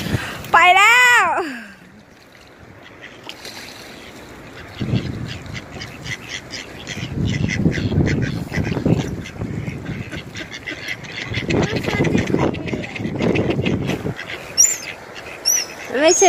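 A couple of honking quacks at the start, then people talk over outdoor noise, with a few faint calls near the end.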